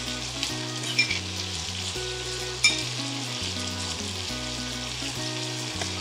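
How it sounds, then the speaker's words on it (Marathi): Salted chopped onion fries in hot oil in a Maharashtrian home kitchen, giving a steady, close sizzle with a couple of brief clinks from stirring. Music plays softly in the background. "आता हे करूयात मिक्स आणि कांदा मस्त असा मऊ होईपर्यंत शिजवून घेऊ."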